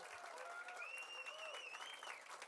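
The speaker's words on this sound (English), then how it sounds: "Let's hear it. Applause." A crowd at a Sundance film festival gathering in Boulder gives quiet, distant-sounding applause, a soft, steady patter with a few rising, sliding whistles or whoops drifting over it.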